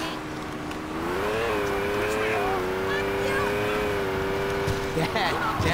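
A car driven through a ghetto street in Saints Row 2, its engine holding a steady droning pitch that rises and dips slightly, with a voice talking over it.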